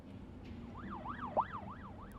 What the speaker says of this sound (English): I hear a siren. That's police.